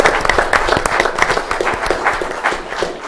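Applause fills a board of commissioners regular session, many hands clapping densely and steadily in the room for about three seconds, loud and sustained with no voices over it.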